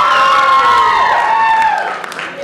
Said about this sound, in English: let's hear it from your cheers and scream and applause.